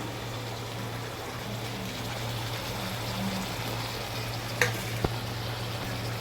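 Tomatoes sizzle steadily in hot oil in a pan while cooking for a bagara chicken curry, a continuous close frying hiss with a couple of sharp utensil clicks as they are stirred.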